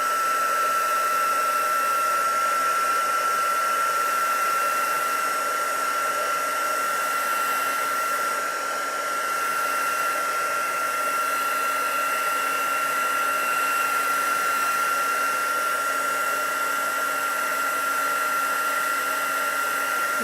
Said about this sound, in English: Now I'll just get the heat tool on setting 2. Make sure it's hot enough, and then emboss.